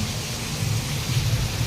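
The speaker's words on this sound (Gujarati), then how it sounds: "અત્યારે સુરતમાં જોરદાર વરસાદ આવે છે" Heavy rain in Surat pours as a steady, dense hiss with a low rumble beneath, continuous and close, no voices present.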